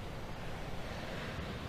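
Sea waves at a beach in Okinawa, a steady, broad wash of surf with some wind noise, faint and continuous without any distinct breaks.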